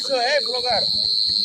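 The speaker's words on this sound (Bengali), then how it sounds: "ঝিঝি পোকার ডাক" Crickets chirp in a steady, loud, continuous drone through the dark at night along a roadside, with people talking over it.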